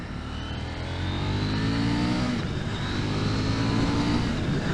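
A 2021 KTM Duke 890 motorcycle accelerates on a test ride, its engine rising steadily in pitch under constant wind rush, loud and close throughout.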